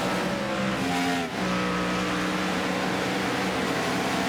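Race cars roaring on a circuit at Montreal during a stock-car series event, a dense sustained engine howl with shifting pitch and a brief dip midway, loud throughout.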